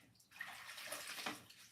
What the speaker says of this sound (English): So I'm going to drain all my water out this rag.